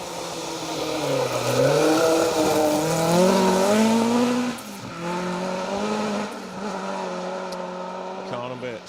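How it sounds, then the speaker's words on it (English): A Ford Escort Mark 1 rally car on a forest stage of the Roger Albert Clark Rally, its engine revving hard through rising and falling gear changes, loud and close, with a second strong run after a short break. "Car number 67, another of the Mark 1 Escorts."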